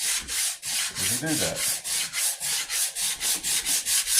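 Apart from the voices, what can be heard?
hand sanding wood along the grain, rifle stock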